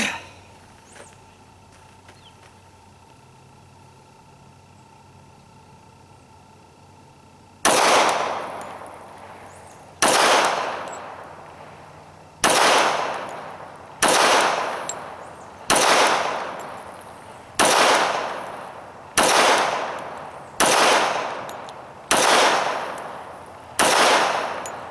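Glock 21 pistol firing .45 ACP rounds, about eleven loud sharp shots after several seconds of quiet, the first few spaced slowly and the rest in a quicker, evenly paced string, each with a short echoing decay.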